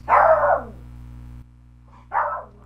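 A dog barks twice indoors: one loud, close bark, a short pause, then a second slightly softer bark over a steady low electrical hum.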